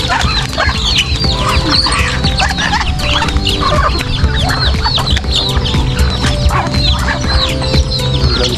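A flock of fowl, with geese among them, cackles and calls loudly and almost without pause, many overlapping cries near at hand on a farm.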